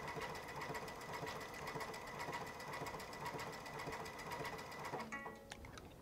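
Baby Lock Altair sewing machine stitching metallic cording yarn in bobbin work, a steady fast mechanical whir with rapid needle ticking running throughout, then slowing and stopping near the end with a few small clicks.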